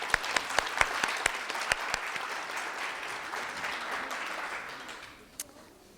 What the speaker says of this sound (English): Let us all give all of our judges another round of applause for their invaluable contributions.